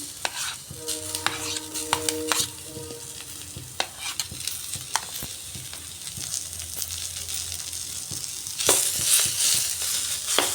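Pointed gourd seeds sizzle with onions in a pan, a steady frying hiss broken by clinks and scrapes of stirring, close and alone.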